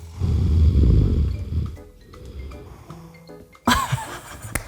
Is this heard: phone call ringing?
no